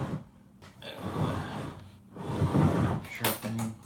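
Drawers are pulled open and rummaged through during gun cleaning, with soft scraping slides and rustling shuffles of contents in two bursts, close and fairly loud, with no talking.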